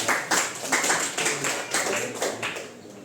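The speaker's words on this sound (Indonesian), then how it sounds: "tepuk tangan dulu untuk kelompok 2" Classroom students give a group a round of applause, scattered hand claps from a small crowd in a room, moderately loud and steady for a few seconds with no talk.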